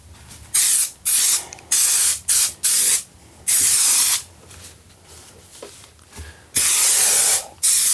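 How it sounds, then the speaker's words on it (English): Aerosol glue sprayed onto insulation for a foil-covered thermal van window cover, in six or seven loud hissing bursts of varying length with short pauses between them, close up and with no talking. "I'm going to get a bit of glue on ready for the foil to go over."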